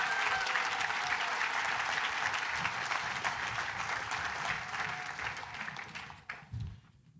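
Dense, steady applause rises from the audience at the Western States 2024 Awards Ceremony, staying full for about six seconds before thinning into a few scattered claps and fading out.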